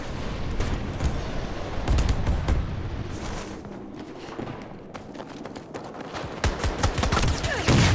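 An automatic gun in a video game fires rapid bursts that stutter and break up, loud and close, with booming impacts mixed in and no voices.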